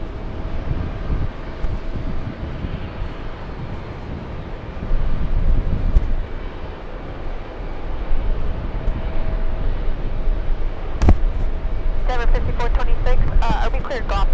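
A JetBlue Airbus A220 airliner arriving from the Bahamas gives a faint, distant, steady roar mixed with wind noise, and a voice briefly talks near the end.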